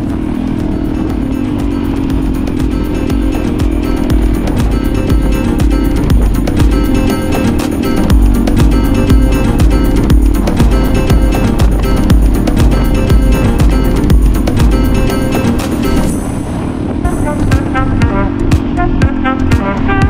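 A motorcycle ridden on a rough crossing, a steady droning engine with rattling and clatter throughout, loud and close, the tone shifting near the end, with no talk.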